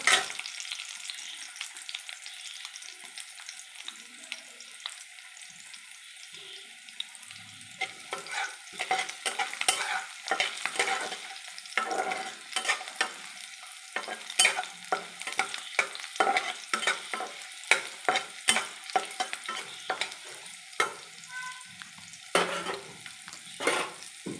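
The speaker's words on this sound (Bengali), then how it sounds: "আর রসুনগুলোকে ভালো করে ভেজে নেব" Garlic cloves frying in a pan for coriander pickle, a quiet sizzle that builds into frequent sharp spatula scrapes and stirring taps against the pan, close, with no voices.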